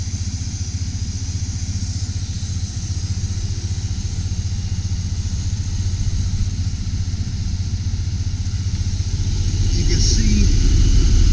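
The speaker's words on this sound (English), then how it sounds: "some of the motor here. It's running nice and smooth." A 2002 Dodge Ram 1500 high-top conversion van engine idles smoothly and steadily, a constant low rumble running throughout with someone talking over it, slightly louder near the end.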